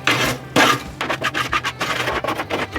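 A metal scraper rasps and scratches inside a Pit Boss pellet grill in short, uneven strokes, close and fairly quiet with no talking.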